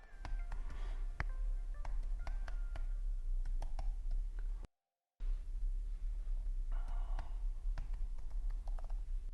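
Typing on a computer keyboard to enter login details, a quiet, steady patter of clicks with a brief silent gap midway before the tapping resumes.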